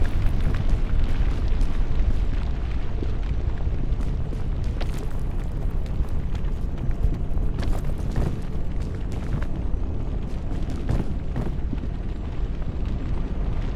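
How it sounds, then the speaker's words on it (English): Fire raging in the climbing game PEAK, a loud, dense roar with steady crackling and scattered pops, continuous and close throughout. "Everything is burning!"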